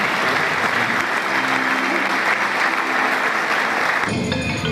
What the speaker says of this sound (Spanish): Un fuerte aplauso para el señor Guillermo Tunteleguario.